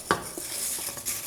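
Spices stirred in a hot pan on the stove, with a few soft scrapes and clinks of a utensil against the metal and a faint sizzle, fairly quiet and without talk.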